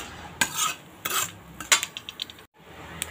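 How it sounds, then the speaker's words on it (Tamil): Mustard seeds and fenugreek roast in a pan with soft crackling and several quick spoon scrapes and clinks against the metal, fairly quiet, with a short silent gap near the end. "வெந்தயம் ஓரளவுக்கு வறுத்துக்கலாங்க, இல்லாட்டி கசப்பாக இருக்கும்."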